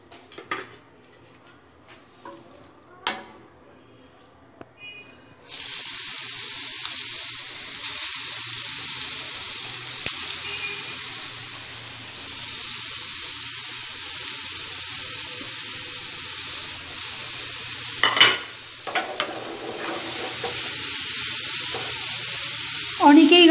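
Grated carrots hit hot ghee in a pan for carrot halwa, bursting into a loud, steady sizzle after a few quiet clinks and stirring sounds, with spoon scrapes and brief knocks as the frying continues.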